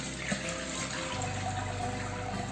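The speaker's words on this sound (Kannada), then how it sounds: "ಇದನ್ನು ಬಸಿತಾ ಇದ್ದೇನೆ" Water drains steadily from soaked bamboo shoots in a kitchen, a continuous close splashing trickle that stays even throughout, with no voices.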